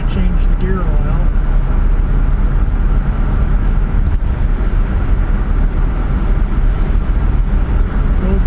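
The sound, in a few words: 1959 Chevrolet Bel Air 348 engine running while cruising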